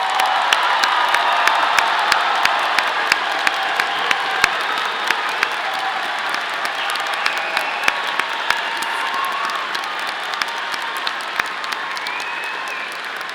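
Audience at a Colorado State University College of Natural Sciences commencement applauding honors graduates, a loud, full round of crowd clapping with a few whoops and cheers, sustained evenly and tapering slightly near the end.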